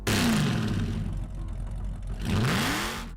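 A Chrysler 440 Six-Pack V8 in a classic muscle car roars loudly and close, its deep engine note rising and falling in revs with a brief dip in the middle before surging again.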